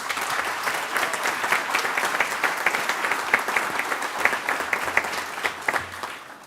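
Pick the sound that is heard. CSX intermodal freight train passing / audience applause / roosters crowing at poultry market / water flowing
audience applause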